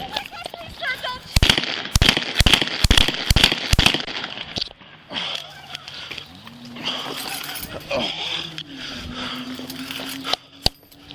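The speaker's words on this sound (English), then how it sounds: "shots fired, officer down." A rapid series of sharp, loud gunshots is fired at a police officer at close range, a cluster of cracks followed by commotion, a rising tone and one more bang near the end.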